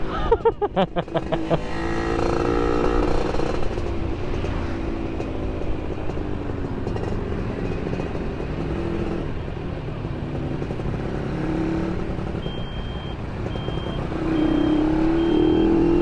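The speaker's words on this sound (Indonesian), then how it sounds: "Ya intinya sih knalpot masih sopan sih, walaupun berisik." A Yamaha F1ZR two-stroke motorcycle with an R&R racing exhaust pipe revs sharply at the start, then settles into a loud, rough, buzzing engine drone that swells again near the end.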